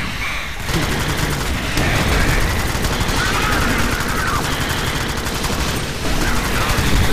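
Rapid, sustained gunfire from the Alien Swarm video game, a dense loud clatter of automatic weapons with booming hits running nearly nonstop throughout.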